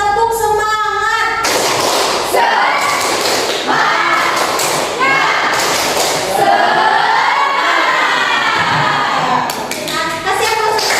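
A school class performs the tepuk semangat routine, children chanting loudly in unison while rhythmic claps and thumps punctuate the chant, close and energetic.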